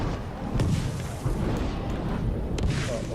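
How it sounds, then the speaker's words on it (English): Explosions in the video game Shadow of War sound as dull, rumbling booms layered over a continuous roar of battle noise, loud and dense across the short stretch. "he's kind of hitting himself with his own explosions"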